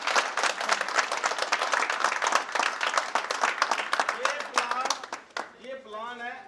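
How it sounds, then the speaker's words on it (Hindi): Audience applause at a Safedeal company event in India: dense, loud clapping from many hands fills most of the span, then fades as people begin singing near the end. "बजाओ ताली"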